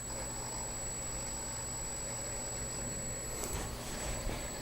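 An MA 400 SpinArc welding torch spinning clockwise at 3,000 RPM gives a continuous, even motor hum with a steady high-pitched whine, and a brief rustle of handling noise partway through.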